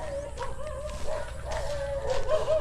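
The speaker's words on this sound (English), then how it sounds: "That's why the dogs are acting up." Dogs bark and yip in short, overlapping bursts over a steady background, close and fairly loud, in a rural Philippine setting.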